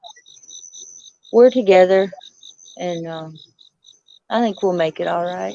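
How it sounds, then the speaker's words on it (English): Crickets chirp at night in a steady, rapid pulsing trill that runs the whole time, fairly faint and under a person's conversational speech. "Crickets? Is it crickets?"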